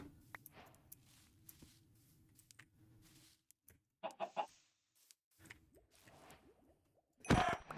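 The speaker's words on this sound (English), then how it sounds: "I hear some chickens." Chickens cluck softly in a farm setting near cows, with scattered faint clucks over a low rumble, and a louder burst of noise at the end.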